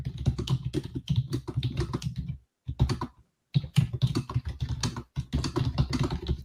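Rapid, close computer keyboard typing clatters in dense bursts, with two brief pauses.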